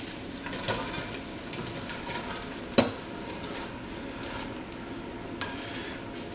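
Onions drop into melted butter in a rondeau pot for French onion soup and are stirred, with a low, steady sizzle and rustle under occasional sharp clanks of metal on the pot.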